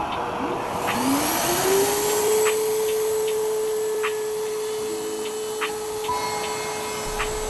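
A router spins up on a SpeTool P01001 router plate table with dust collection attached, settling into a steady, loud motor whine with a constant airy hiss that runs the whole stretch, alone without talk.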